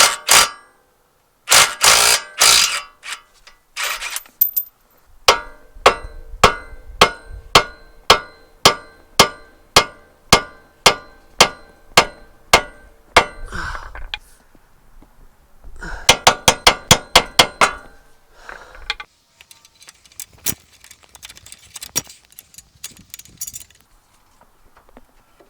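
Metal hammer striking the front suspension of a 2007-08 Acura TL Type-S to work a ball joint loose, sharp ringing blows in fast rhythmic bursts separated by short pauses, close and loud.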